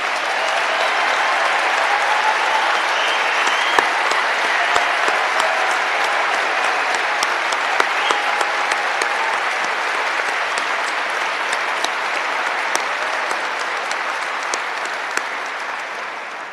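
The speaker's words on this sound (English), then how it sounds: "warm round of applause" A large outdoor summit crowd gives a warm round of applause, sustained and even clapping that continues for over fifteen seconds with occasional louder individual claps standing out before tapering slightly at the end.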